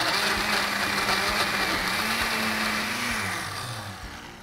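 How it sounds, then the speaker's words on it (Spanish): A kitchen blender whirs steadily while blending cold ingredients for a tamal sauce, a loud continuous motor hum with a shifting pitch that eases off toward the end. "Ya aquí está todo en frío y echamos a andar la licuadora."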